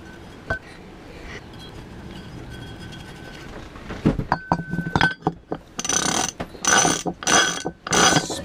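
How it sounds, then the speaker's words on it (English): A sailboat winch drum spun by hand after greasing, ratcheting with rapid pawl clicks in several bursts near the end, preceded by a few scattered metallic clinks, close and fairly loud with no talk. "Spin it around and get the grease distributed."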